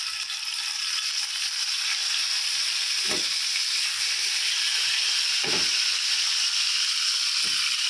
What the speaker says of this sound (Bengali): আমি ফ্রাই প্যানে তেলটা দিয়ে মাছটা ভাজা বসিয়ে দিই।